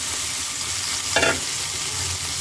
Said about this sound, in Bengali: আমি সব সবজিগুলো একসাথে দিয়ে দিলাম কড়াইয়ে